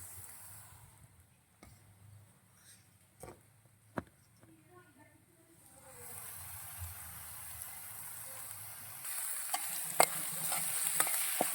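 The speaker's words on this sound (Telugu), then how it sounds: "పొడి వేసుకొని బాగా మిక్స్ అయ్యేటట్టుగా ప్రాపర్గా కలిసేటట్టు తిప్పుకోవాలండి." Drumstick leaf powder being stirred into frying onions in a pan, giving a soft scraping and steady sizzle that grows louder and denser in the second half, with a few sharp utensil clicks.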